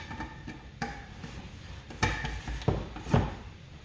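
Teaspoon being taken from a cutlery drawer in a home kitchen, a few knocks and clinks with a couple of sharper wooden thumps and rattles near the end, close and sparse.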